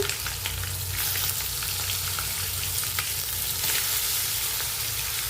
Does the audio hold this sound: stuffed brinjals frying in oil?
yes